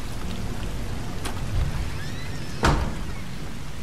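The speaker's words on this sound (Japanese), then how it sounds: "おお、雨がすごい。" Heavy rain falls steadily as a dense, even hiss in The Last of Us, with a couple of brief dull thumps breaking through the downpour; no one speaks.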